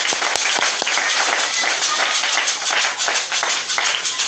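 A church congregation applauds during a service. The clapping is dense and sustained, filling the whole stretch with no break.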